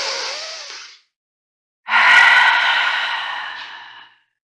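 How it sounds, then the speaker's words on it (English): A big cleansing exhale out through the mouth during a breathing practice, a long loud close breathy rush after a shorter airy breath and a brief pause. "big exhale out your mouth."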